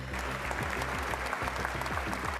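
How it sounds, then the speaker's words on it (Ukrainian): Applause from a crowd inside Notre-Dame Cathedral in Paris, a dense, steady wash of many hands clapping at once that fills the whole moment at a moderate level, with a low hum running beneath it. "Щемкий момент у соборі Паризької Богоматері його зустрічають оплесками"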